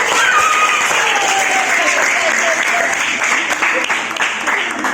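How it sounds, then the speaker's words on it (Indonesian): A classroom of students claps after a classmate reads out a definition during a lesson. The applause is dense and steady, filling the whole stretch at close range. "Oke, tepuk tangan."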